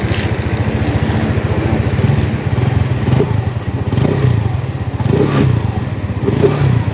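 A 2024 Monarch OMNI 125i scooter idling after a one-click start, a close, loud, steady putter with regular pulsing beats and a few slight surges, with no talking.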